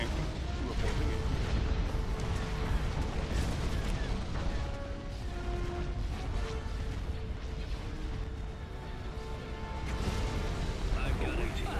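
Heavy artillery barrages from space warships in a Star Wars strategy game, rolling booms and blasts layered continuously over a dense battle din with radio-style voice chatter underneath.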